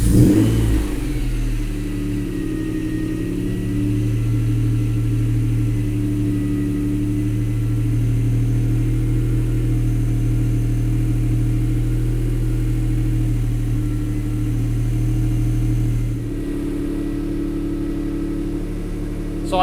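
A high-mileage Honda NSX engine idles while warming up, a steady close low hum with firm tonal drone, holding evenly for about twenty seconds with a slight shift near the end.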